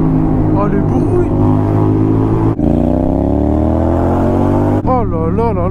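A very loud Honda X-ADV scooter at night in Paris, a harsh close engine drone climbing in pitch with abrupt cuts like shift breaks and a sharp rev burst at the end, with a rider speaking over it.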